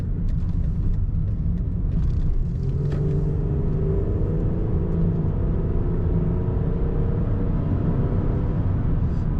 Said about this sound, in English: Good acceleration in this Monte Carlo.